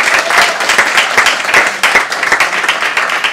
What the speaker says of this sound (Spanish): Vamos a aplaudir al Señor por esta alabanza maravillosa